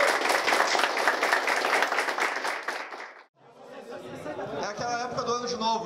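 An audience at a Rio de Janeiro fighting-game community event breaks into loud, dense clapping for about three seconds, then the applause cuts off and chatter and other voices follow.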